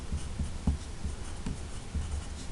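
Marker or chalk writing on a board during a math lesson on decimals, a run of soft scratchy strokes with brief taps, close and moderately quiet with no talking.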